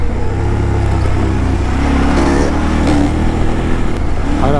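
A Kove 800X Pro ADV motorcycle engine runs hard on rough off-road enduro terrain, a loud, close, continuous droning roar that swells slightly as the revs climb, with no one speaking.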